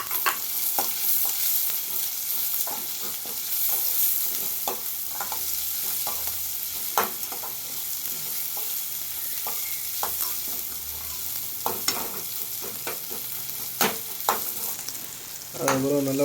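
Onions sautéing in a pan with cumin seeds and curry leaves for idli sambar, a steady close sizzle broken by repeated sharp clinks and scrapes of a stirring spoon, with no voices.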